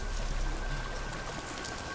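Steady, soft rushing of a stream flowing beside a bridge in Resident Evil 8, a continuous even wash of water with no voices.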